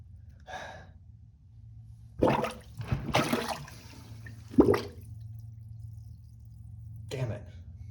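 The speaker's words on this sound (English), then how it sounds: "Not draining at all, just one plunge." A clogged, non-draining toilet being plunged in an apartment, with a few sharp watery plunge bursts and gurgles between quiet gaps, plus a voice sighing and murmuring.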